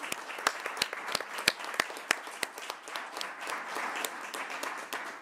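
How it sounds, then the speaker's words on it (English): Applause at a city council meeting in Kent for Assistant Chief Stansfield after the public safety report, a modest room of scattered, uneven claps, fairly quiet and alone without talk. "I think round of applause for Assistant Chief Stansfield"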